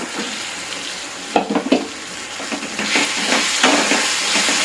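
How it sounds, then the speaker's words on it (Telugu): Boiled, peeled taro pieces drop into a pan of frying tomato masala and are stirred, giving a steady sizzle with a few louder clatters of the spoon against the pan, close by and with no talk. "ఇప్పుడు మనం ఆల్రెడీ ఉడికి తొక్క తీసి ఉంచుకున్నటువంటి చామదుంపల్ని ఇందులో వేసేయాలి"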